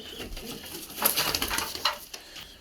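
Pigeons in a garden coop give soft, repeated throaty coos close by, with light rustling and clatter in between.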